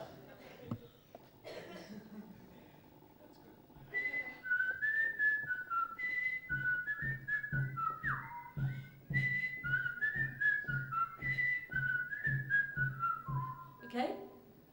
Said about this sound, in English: It's got a whistling bit. If you want to, that'd be good if you could whistle with us